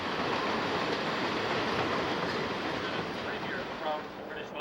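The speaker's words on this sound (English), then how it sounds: "After the train crosses the bridge, it will enter the North Vancouver yards and complete its day's journey." A classic North American steam train crossing a bridge near North Vancouver gives a dense, steady rumble of rolling wheels and rattling cars that stays loud throughout and eases slightly at the end.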